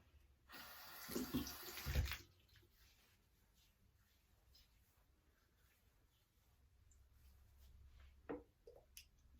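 Brief burst of splashing water at a sink as hands dampen a face, close and fairly soft, followed by quiet handling noises and a small splash near the end.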